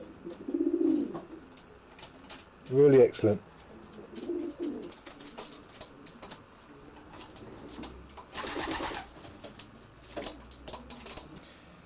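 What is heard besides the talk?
racing pigeons cooing inside a loft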